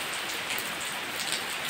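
Heavy rain pours down in a thick, unbroken hiss of drops striking surfaces nearby, loud and steady with no talking.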